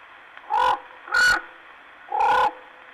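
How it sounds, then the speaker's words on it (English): A raven calling from a distant pine in the morning, three hoarse croaks spaced apart and standing alone over a faint steady background hiss. "a raven in a distant pine with his morning croak"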